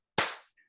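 A single crisp hand clap in a quiet room at the start of a class's bow to the flag, close and sharp with a short fading tail.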